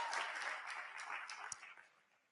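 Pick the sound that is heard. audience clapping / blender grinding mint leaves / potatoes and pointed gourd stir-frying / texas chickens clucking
audience clapping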